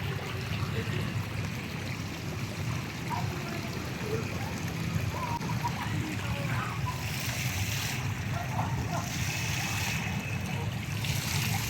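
Water from a park fountain in Ho Chi Minh City, Vietnam, keeps up a steady, even rush and splash throughout, with voices talking faintly over it.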